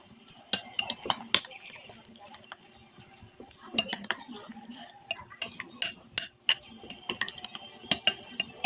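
Spoon clinking against a bowl while mixing breakfast ingredients seasoned with Magic Sarap and a pinch of salt, irregular bursts of sharp metallic taps and scrapes close by, with pauses between.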